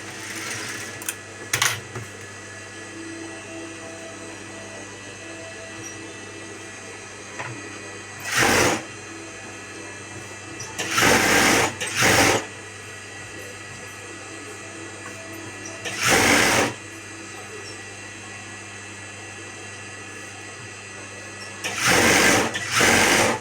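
Sewing machine stitching a blouse of doubled fabric, running in several short bursts of a second or so each, spaced apart with quiet gaps between them, fairly close and clear with no talk over it.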